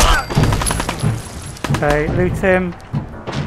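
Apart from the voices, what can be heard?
gunfire in Fallout video game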